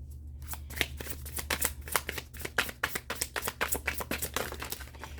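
Tarot cards being shuffled and flipped during a reading, a fast run of crisp riffling flicks and soft slaps rising into a steady rhythmic patter, close and fairly loud, with no talking.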